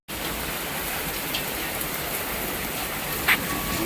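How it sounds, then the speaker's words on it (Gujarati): Steady monsoon rain in Ahmedabad pours down in a continuous, even hiss with no letup, a single brief tap standing out near the end. "આજે વરસાદ ચાલુ છે"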